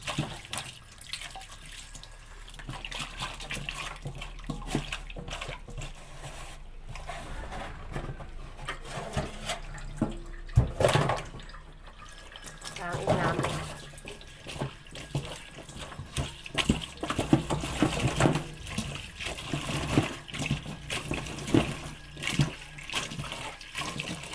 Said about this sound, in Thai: เสร็จแล้วก็ล้างน้ำ